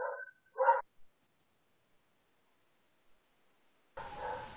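A few sharp, close dog barks at the start, loud and alone, followed by a long silent gap and then a louder noisy stretch near the end.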